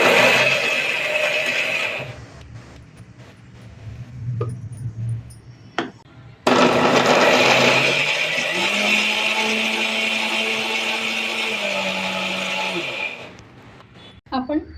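A kitchen mixer grinder whirs loudly, pulverising torn pieces of four chapatis into fine churma, with a long steady grinding roar in two bursts separated by a brief pause.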